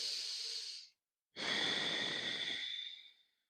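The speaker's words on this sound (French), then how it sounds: "On reste ici 2 cycles complets de respiration." Breathing in a yoga downward dog pose during an evening flow: a long airy exhale, a short pause, then a fuller slow breath that fades out, close and clear, with no talk.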